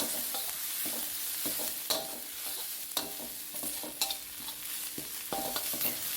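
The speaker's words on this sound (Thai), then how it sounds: "ใส่กระเทียมโขกลงไปได้เลยนะครับ ผัดให้เหลืองหอมเลยครับคราวนี้" Crushed garlic stir-fries in a little oil in a pan for Thai eggplant with egg, making a soft continuous sizzle broken by sharp spatula scrapes and clinks against the pan at irregular intervals.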